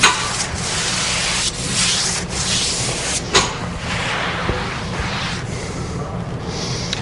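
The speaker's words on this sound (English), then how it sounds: "You can use a paste smoothing brush that I have in my right hand." A paste smoothing brush sweeps over freshly hung wallcovering in repeated close, dry brushing strokes with soft rhythmic swishes and occasional light knocks.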